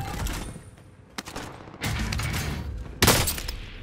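Bursts of rapid gunfire crackle in quick volleys in Call of Duty: Warzone, with a sharp loud burst near the end and quieter stretches between.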